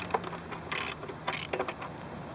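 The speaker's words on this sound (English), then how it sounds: "Okay, snapped another bolt." A wrench works a bolt on a Mazda B3000 while fitting a fog light near the valence, giving ratcheting clicks and two sharp bursts as the bolt snaps, close and moderately loud with no talking.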